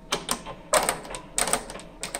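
A Vetron 5400 sewing machine finishes a seam, giving short mechanical stitching bursts in a brisk rattling rhythm, close and moderately loud with brief pauses between runs.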